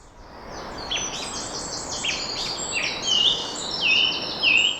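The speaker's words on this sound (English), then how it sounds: "And you can totally see why it's called a song thrush" Song thrush singing outdoors, a run of varied repeated phrases, clear and fairly near, growing louder toward the end with faint background hiss.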